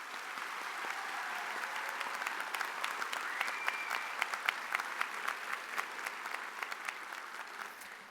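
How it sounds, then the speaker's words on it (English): Sustained applause from a large crowd honouring faculty at a 2015 School of Public Health and Health Professions commencement ceremony, a steady, even clatter of many hands with scattered sharper claps, holding for the whole stretch with no voices over it. "Please join me in applause for their contributions."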